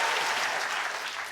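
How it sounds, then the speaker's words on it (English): Audience applause for a PE teacher at a science lecture, a short burst of dense clapping from a crowd, loud and even throughout. "And big round of applause for PE teacher Chris."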